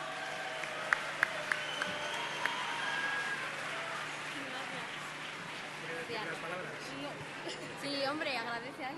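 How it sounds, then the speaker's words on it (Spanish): Applause from an awards gala audience swells and holds as a dense, steady clatter of clapping with crowd murmur, a few sharp tones near the start and voices mixed in. "Unos aplausos, por favor"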